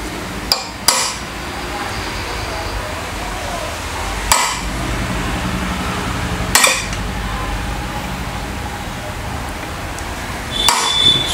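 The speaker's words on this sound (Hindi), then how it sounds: "अब मैं ये जो बोल्ट टूटा है इसके बीचों बीच एक सेंटर पंच से छेद करूँगा" A hammer drives a center punch into the middle of a broken bolt in a washing machine mechanism, giving several sharp metallic strikes: a quick pair early, then isolated blows spaced seconds apart, loud and close.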